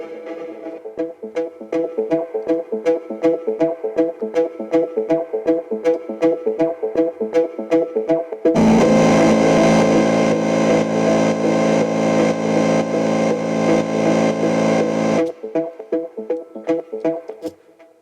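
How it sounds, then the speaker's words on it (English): A song section with heavy reverb and LFO-driven stereo panning: a pulsing rhythmic pattern gives way to a dense, loud sustained wash, then the pulsing returns, with no voices. "So with the reverb and the stereo panning that's constantly running here with an LFO"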